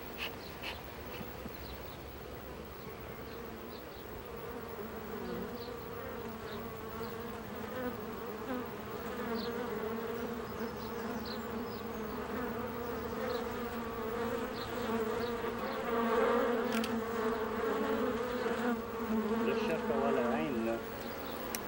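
A dense swarm of bees drones continuously, a close, layered buzzing that swells a little in the middle and holds steady throughout.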